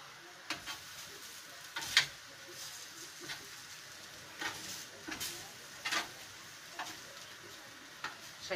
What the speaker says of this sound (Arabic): ادي انا بقلب السمك اهو